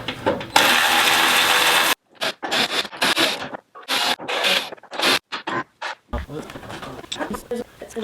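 A power tool backs screws out of Jeep light housings, giving a steady whir of over a second, then choppy mechanical clicks and ratcheting bursts as a person talks.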